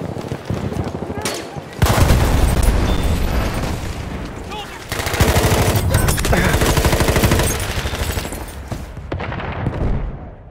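Grenade blasts and rapid gunfire from a Battlefield 1 conquest match in the Argonne Forest, loud dense bursts and booms pounding almost nonstop with brief lulls, while in-game soldiers shout in German over the chaos.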